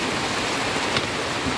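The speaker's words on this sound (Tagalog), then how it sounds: "Grabe, ang lakas ng ulan." Steady, dense rainfall pouring down hard, a continuous hiss of heavy rain with no voices, close and loud throughout.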